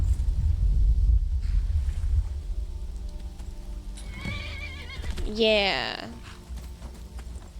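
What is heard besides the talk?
horse neighing and hooves in the video game Skyrim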